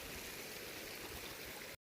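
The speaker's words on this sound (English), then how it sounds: "So much snow melt. The trail is a river." Snowmelt water rushing down a hiking trail like a stream at Monarch Pass ski area, a steady broadband gush close by that fills the whole clip and cuts off abruptly near the end.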